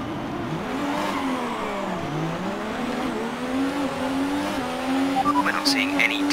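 Formula One race cars in the F1 2018 video game roar off the start, engines revving and whining up and down through the gears, with a rising field of cars and a faint voice over the noise.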